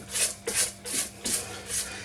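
A spatula scrapes down the sides of a mixing bowl of cake batter in five steady, even strokes, close and fairly quiet.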